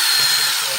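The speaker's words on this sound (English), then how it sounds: "So you get your soap, you get your drill, and you just kind of" Power drill boring through a bar of white soap, a brief high steady whine at close range with a faint grinding texture, no talk.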